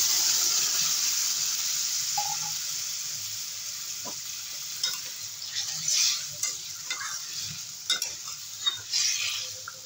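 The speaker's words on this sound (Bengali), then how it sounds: "তেজপাতা আর একটু জিরে দিয়ে দেবো ফোড়নে। এবারে তরকারিটা ফোড়ন দেব।" Taro curry sizzles in hot oil after being tempered with bay leaf and cumin, with a steady frying hiss and soft scraping stir sounds throughout.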